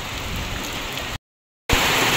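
Heavy rain pours outside a small shop in strong wind, a dense continuous hiss that cuts out briefly midway and then resumes just as loud.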